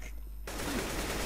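Automatic rifle fire in Counter-Strike: Global Offensive: after a brief quiet moment, a dense, rapid burst of spraying shots erupts, loud and continuous to the end.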